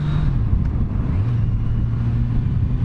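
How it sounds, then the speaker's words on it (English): A four-cylinder motorcycle engine runs smoothly at a steady, close idle-to-cruise hum, with a slight pitch rise partway through and little else in the background. "it's just got that silky 4-cylinder sound that I just love so much"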